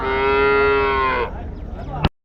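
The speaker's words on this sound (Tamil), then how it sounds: "இங்கே ஒரு மாடு இருக்குது பாருங்கள்." A single loud, close cow moo at a cattle market rings out as a long, sustained bellow, then trails into rougher lowing before ending abruptly.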